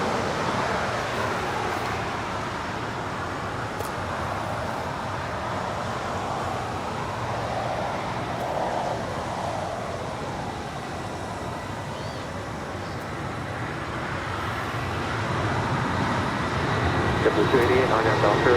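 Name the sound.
Boeing 757-300 airliner on the runway at LAX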